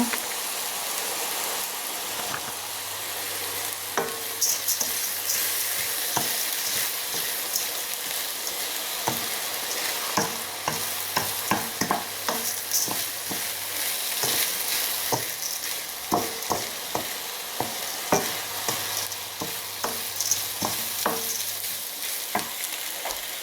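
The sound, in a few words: stirring risotto rice with mushrooms and onions in a pan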